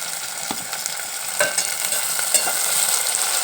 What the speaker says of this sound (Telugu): టమాటా వేస్తున్నాను